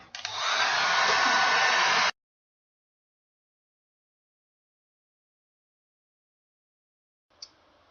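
A Panasonic nanoe compact 1400W hair dryer runs on high, a loud steady blowing whoosh for about two seconds before it cuts off abruptly, followed by silence and a faint return of sound near the end.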